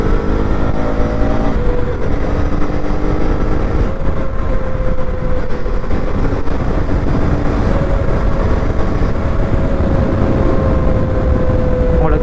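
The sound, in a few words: KTM Duke 250 Gen 3 motorcycle engine while riding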